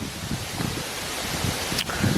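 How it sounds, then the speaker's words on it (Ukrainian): Steady gusting wind roars through a forest near Kyiv, a broad rushing noise with faint rustling, close and fairly constant throughout. "сьогодні такий сильний вітер"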